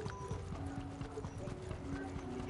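Video game horse hooves clip-clop in a steady trotting rhythm over a dense, noisy game soundscape, with voices murmuring underneath.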